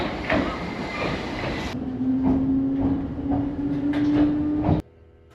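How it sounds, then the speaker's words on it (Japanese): A retro local train running from Choshi station rumbles steadily close by, with wheel clatter and a rising whining tone, before cutting off abruptly near the end. "あのレトロな電車が走るローカル線に乗ろう。"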